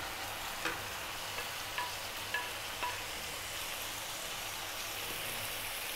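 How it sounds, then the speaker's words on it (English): Belt fish frying in oil over high heat, a steady close sizzle with a few soft clicks and pops, no voices. "We're going to drop our fish back in."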